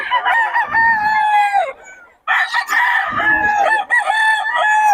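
A young rooster (stag) at a gamefowl market crows twice, loud and close, each crow a long, strained call separated by a brief pause, with faint market bustle behind.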